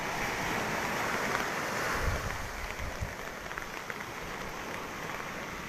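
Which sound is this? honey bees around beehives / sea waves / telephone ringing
sea waves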